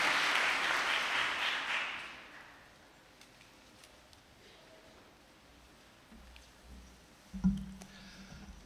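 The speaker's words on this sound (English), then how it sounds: "let's give everyone a round of applause" Applause from a graduation ceremony audience rises at the start and fades out within a couple of seconds, leaving a quiet hall with faint rustling and a brief thump.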